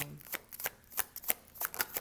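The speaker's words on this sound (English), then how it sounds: "I'll give it one more shuffle." Rune stones shuffled by hand for a divination reading, making a quick run of light clicking and clattering taps in close succession, fairly soft and close up.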